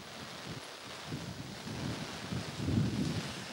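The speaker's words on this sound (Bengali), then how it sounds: "দেখছি যে প্রচণ্ড বাতাসে আপনার ছাতাও উড়িয়ে নিচ্ছে" Strong wind blows during rain in Dhaka, a steady low roar and rustle that swells toward the end, with no voices.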